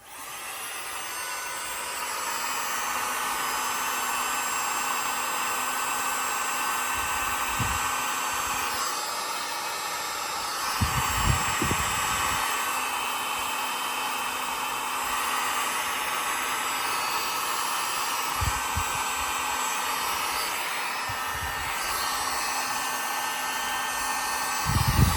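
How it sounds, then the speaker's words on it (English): A corded heat gun blows steadily in a workshop, a loud constant airy roar that runs the whole time, broken only by a few faint clicks and knocks in the background. "Now we take the heat gun, plug it in."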